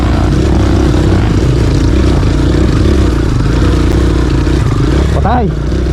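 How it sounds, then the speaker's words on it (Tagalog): Kawasaki KLX150 dirt bike engine running loud and close on a steep trail, a steady rough drone that sags and labours as it weakens, with voices talking over it. "Nangihina yung makina natin"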